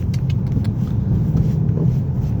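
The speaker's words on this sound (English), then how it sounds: "Having to move now because there's a car behind me." A car driving close behind on a wet winter road at the Hermitage, Aoraki/Mt Cook, giving a steady, loud low engine and tyre rumble that runs continuously with no talk.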